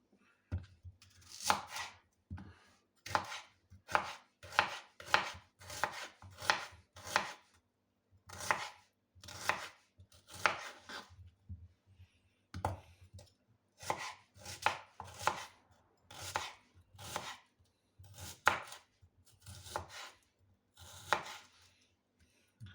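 Onions sliced into crescents with a knife on a cutting board, close crisp chops in quick bursts and runs with short pauses between, steady for over twenty seconds and no voices.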